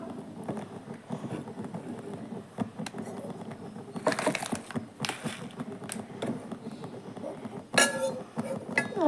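Moong dal being dry-roasted in a cooker: irregular dry clinking and rattling as the lentils are stirred against the metal, with louder scraping bursts around four and eight seconds.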